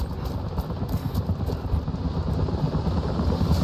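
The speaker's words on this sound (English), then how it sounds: "helicopters are headed your way" Helicopters approach in the video game Rise of the Tomb Raider, giving a steady rhythmic rotor thump and low churning drone that grows slightly louder.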